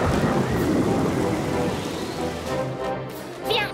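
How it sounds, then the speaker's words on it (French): Rain in a French-dubbed My Little Pony cartoon, a dense steady downpour hiss with a low thunder rumble, fading slightly toward the end as a faint higher sound rises. "C'est juste un peu de pluie!"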